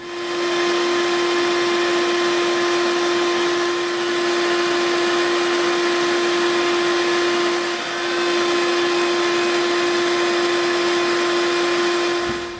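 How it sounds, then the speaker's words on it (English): A Dremel rotary tool fitted with a smoother bit sands EVA foam, giving off a loud, constant high whine that holds steady with only slight dips in load throughout. "now we're going to come in with our smoother bit and we're going to clean it up"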